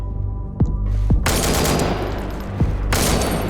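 Gunfire in the shooter game BlackSite Zeta: a couple of sharp single shots, then two long, loud bursts of rapid automatic fire over a low humming drone, with no talking.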